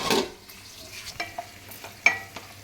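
Onions sautéing in a pan for chicken curry, with a soft, low sizzle and a few sharp spatula clinks and scrapes of stirring, fairly quiet throughout.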